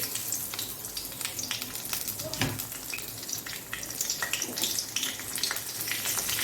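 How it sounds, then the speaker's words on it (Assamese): Mustard seeds splutter and pop in hot oil left over from frying fritters, a continuous crackling sizzle dotted with sharp pops, close and fairly loud. "বৰা ভাজা তেলখিনিতে অলপমান সৰিয়হ দি দিছোঁ"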